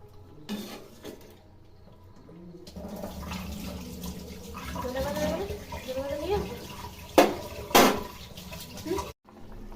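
Water is poured into a pan of simmering egg curry, making a rushing, sloshing sound under a talking voice, with a couple of louder splashing bursts near the end.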